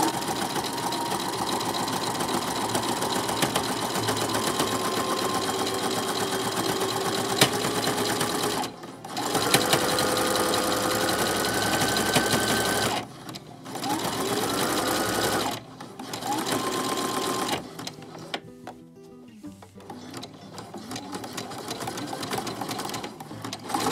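A sewing machine stitching together a braided rug made from old bedsheet fabric scraps, a close, steady mechanical whirr that runs in bursts broken by a few short pauses.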